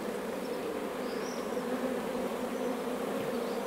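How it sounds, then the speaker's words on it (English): Honey bees at an open beehive hum in a dense, steady buzzing drone, close and continuous, with no voices. "busy bees"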